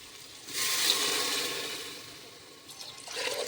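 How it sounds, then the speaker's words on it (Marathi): Water is poured into a cooking pot for dal, giving a close rushing pour that swells and fades over about two seconds, then a shorter splash near the end, with no talking. "मी गडवाभर पाणी त्यामध्ये टाकलेलं आहे."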